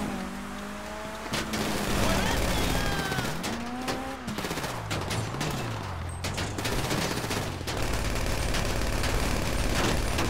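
Dense gunfire rattles through a heist in Grand Theft Auto V, with repeated shots layered over engine revs and vehicle noise in a busy, continuous mix.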